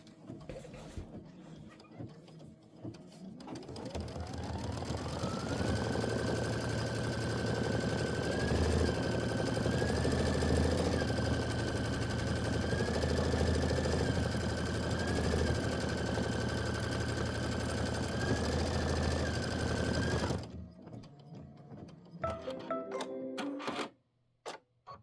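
An embroidery machine hums loudly and evenly for about fifteen seconds while sewing a placement stitch for a Kimberbell Star Spangled Beauty quilt block, then stops, leaving a few light clicks.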